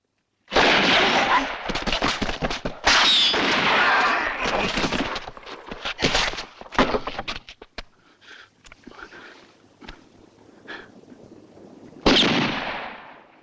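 Gunfire crackles through a western shootout as rapid volleys of shots and echoing bangs come in dense bursts, thin out to sporadic reports, then end in one last loud burst, with a voice briefly heard among them.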